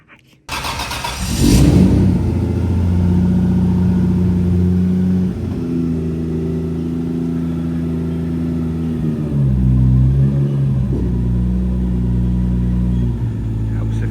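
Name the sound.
BMW E36 car engine while reversing into workshop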